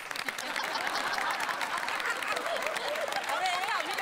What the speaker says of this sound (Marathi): यांच्या मिस्टरांसाठी एकदा जोरदार टाळ्या.